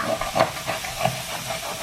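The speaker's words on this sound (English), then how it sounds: "I'm going to add my red wine into my really hot pan" Red wine poured into a very hot pan to deglaze the burnt bits, a short burst of loud steamy hissing and spitting that pulses for a couple of seconds.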